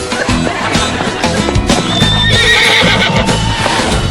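A horse whinnies loudly and close amid a dense, noisy mix of hoofbeats clip-clopping, with a high neigh rising above the clatter.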